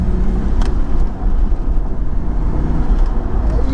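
A 315-horsepower Audi RS2 Avant engine drones loudly and steadily while driving, a continuous close rumble with no voices over it.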